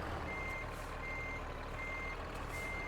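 Steady, evenly spaced reversing beeps from a backing truck in American Truck Simulator, repeating under a constant low engine rumble with no talk.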